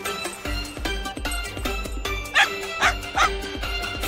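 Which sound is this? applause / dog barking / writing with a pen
dog barking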